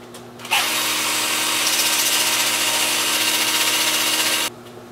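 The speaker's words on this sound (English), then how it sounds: "I'll just take it over here to the workbench and sand that up." A power sander runs on a thin natural-edge sycamore bowl at a workbench, a loud, steady whirring hum that starts abruptly, holds for about four seconds and then cuts off.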